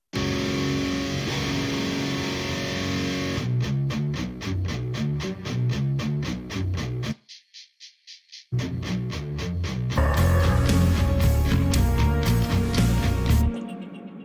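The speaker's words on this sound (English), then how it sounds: "Here's the rhythm guitar." An isolated rhythm guitar track from a metal song mix plays heavy, distorted chugging chords in a tight rhythm, briefly dropping to quieter muted hits before returning loud and full, no voices.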